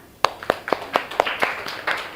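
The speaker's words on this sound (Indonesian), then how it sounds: "Oke, tepuk tangan." About eight sharp hand claps in a quick, slightly uneven rhythm during a class lesson, close and distinct, each one a crisp slap against a quiet background.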